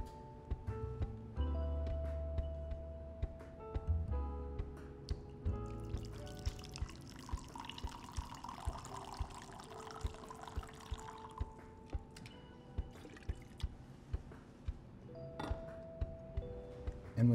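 Hot water poured from a kettle into a Chemex pour-over coffee maker over ground coffee, a steady close trickle and splash running for many seconds with faint clinks and no talking.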